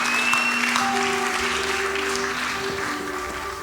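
A congregation applauding at a French-language evening worship service, a steady sustained wash of clapping with sustained musical tones and faint voices underneath.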